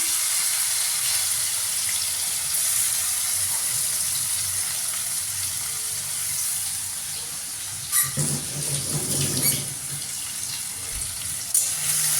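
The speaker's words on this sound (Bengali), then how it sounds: "পেঁয়াজ কুচিগুলো দিয়ে দিচ্ছি" Chopped onions fry in a pan over a lowered gas flame, making a continuous hiss with a louder burst of crackling sizzle partway through. The sound is close and heard alone, without voices.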